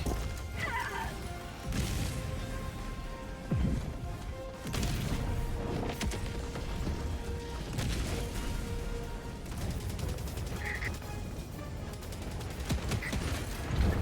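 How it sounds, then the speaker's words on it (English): Orbital strike explosions in Helldivers 2: a series of heavy, crashing blasts lands one after another a second or so apart, each with a rumbling tail, over a constant din of battle. "Firing orbital strike."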